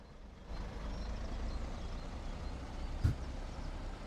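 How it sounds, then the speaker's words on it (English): A bus pulling away from a bus station in Train Sim World 4 at Blackpool, a low engine drone rising after half a second and holding steady, with a short sharp knock near the end, no voices. "there's a bus just left from the bus station"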